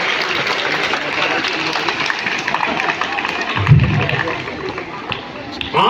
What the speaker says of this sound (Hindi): अब आप ताली बजा सकते हैं गांधी के नाम पे